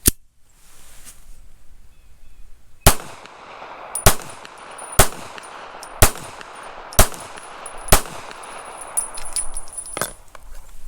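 A Taurus Spectrum .380 ACP pistol fires Browning rounds outdoors: sharp, loud shots spaced roughly a second apart, with a first shot and then six more in a steady series, each followed by brief ringing and echoes.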